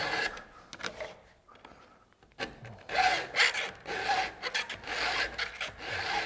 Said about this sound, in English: Now on the backstroke, I'm not filing. I'm just taking the pressure off and moving it forward a little bit.